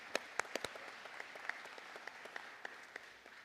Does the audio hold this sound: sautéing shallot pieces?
no